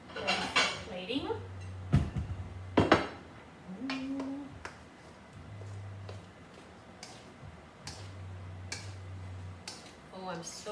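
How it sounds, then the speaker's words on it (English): A plate is picked up and set down in a home kitchen while a baked salmon meal is readied for plating, giving several sharp ceramic clinks and knocks spread out, close and fairly quiet, with a low hum between them. "get a plate in order to get it ready for plating"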